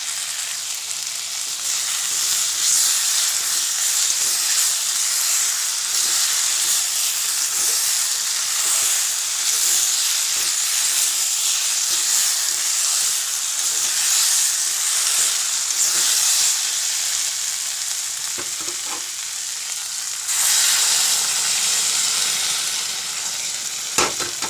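Food frying in a pan on a village kitchen stove gives a steady, close sizzle with a constant hiss that runs unbroken the whole time, slightly louder and brighter near the end.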